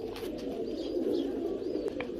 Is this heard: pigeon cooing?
yes